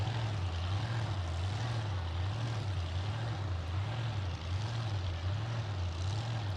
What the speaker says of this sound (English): But here it is, Nightmare Mustang. Blown alcohol. 7-second ride, driving down the street.